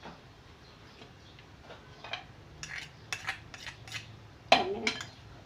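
A spoon clinks and scrapes against a bowl while mixing chana chaat made with chickpeas, giving a run of light irregular taps that grow louder toward the end, with no talk.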